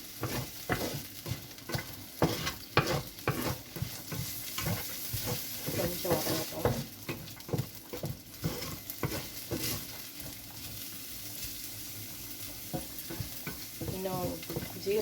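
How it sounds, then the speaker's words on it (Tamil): Marinated chicken pieces coated in chilli powder, turmeric, masala and lemon sizzle and fry steadily in a pan, with repeated stirring scrapes and spatters throughout, close and continuous. "மசாலாலாம் மிளகாத்தூள் மஞ்சள் தூள் கொஞ்சம் லெமன் இதெல்லாம் போட்டு மேரினேட் பண்ணி வச்சுருக்கு இந்த சிக்கன் தான் நான் போட போகிறேன்"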